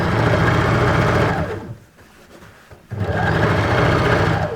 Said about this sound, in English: I'm simply sewing where I can feel the ridges